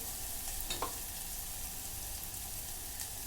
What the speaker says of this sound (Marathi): मसाला चांगला परतून झालेला आहे त्याच्यामध्ये थोडीशी हळद टाकून घेते